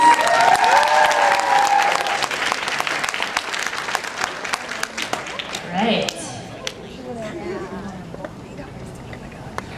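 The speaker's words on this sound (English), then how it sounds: "Can I get a round of applause" An audience at a cosplay awards ceremony applauds a contest winner with dense, loud clapping that runs for several seconds and gradually thins out. A voice rings over the opening moments.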